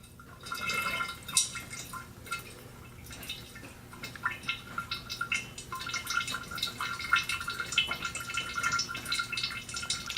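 Manual transmission fluid drains from a BMW in a steady, faint trickle with small irregular drips that continue throughout.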